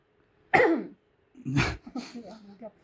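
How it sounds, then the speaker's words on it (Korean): One sharp cough, then a rougher throat-clearing cough a second later, close and loud against silence. "너무 적절한 시기에 기침이 나온 거 아니에요?"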